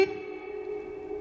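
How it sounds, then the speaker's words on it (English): Vox AC30 guitar combo amp with its reverb turned up high, a sustained guitar note ringing on with a washy reverberant tail, steady and fairly quiet with no voices. "If I kind of crank the reverb up,"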